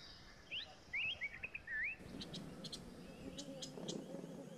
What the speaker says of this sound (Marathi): उन्हाचा तडाखा जसजसा वाढत जातो तसतशी पाणवठ्यावर पक्ष्यांची गर्दी वाढत जाते